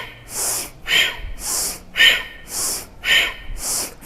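Rapid forceful breathing in a yoga flow, sharp rhythmic nasal exhales and inhales alternating about twice a second, close and loud with no talk.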